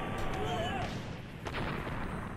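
Explosions and gunfire from a large battle with tanks and a transport plane in Totally Accurate Battle Simulator: booming blasts and crackling shots layered into a continuous rumble, with a voice heard briefly over the din.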